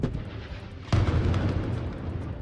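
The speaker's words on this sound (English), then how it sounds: "As explosions continue to pound parts of northern Gaza" Explosions in northern Gaza: a sudden deep boom followed by a rumbling low decay, with smaller thuds in the background beforehand.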